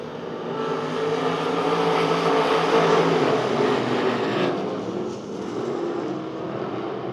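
Race cars roar off at the green flag start of the Winter Nationals at Devil's Bowl Speedway, a dense, loud, sustained engine drone that swells and dips slightly as the pack accelerates past.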